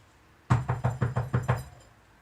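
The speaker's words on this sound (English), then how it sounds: "And then she heard a knock on her door." Seven firm, evenly spaced knocks rap on a door, loud and close, with a faint quiet room tone before and after.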